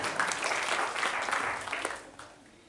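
A church congregation claps together in a brief burst of applause during a worship service, strong at first and then fading away within a few seconds.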